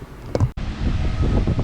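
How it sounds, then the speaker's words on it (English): Strong gusty wind buffeting a GoPro Hero 8 Black camera microphone outdoors, a loud low rumbling roar that begins abruptly after a short bump and continues steadily. "It is so windy out here, folks, you would not believe."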